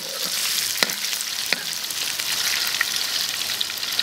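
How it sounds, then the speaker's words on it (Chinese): Pork belly and chili peppers stir-frying in a wok give a steady, close hiss and crackle of frying, with a few sharp ticks of the spatula against the pan and no voices. "还要再炒一下啊，越炒越香，别急。"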